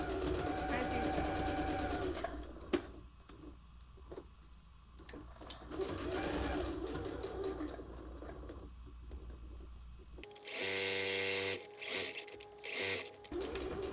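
A sewing machine stitching a scalloped seashell purse with pins left in, a short rapid mechanical whirring burst near the end after a stretch of someone talking over faint background hum.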